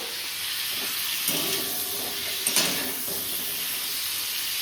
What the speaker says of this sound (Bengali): আর একটু ভাজা হবে ফুলকপিগুলো